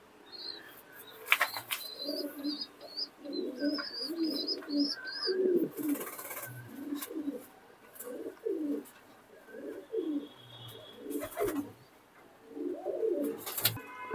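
Pigeons coo in repeated soft, throaty phrases close by, with a few wing flaps and small chirps mixed in, steady through the stretch with no talking.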